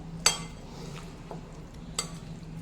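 Spoon stirring salted dried mango pieces in a vessel for avakaya pickle, giving a few sharp metallic clinks and soft scraping sounds, quiet and close, with no talking.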